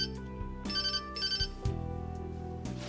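A ringing phone ringtone from the video game Persona 5 Royal sounds in two bright, repeating melodic bursts over steady background game music, with no one talking.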